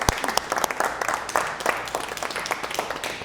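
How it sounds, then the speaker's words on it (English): An audience applauds a sous chef being introduced, a lively, fairly loud burst of many hands clapping close by, with light crowd murmur mixed in. "Round of applause"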